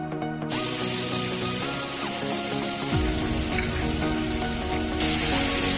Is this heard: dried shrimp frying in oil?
yes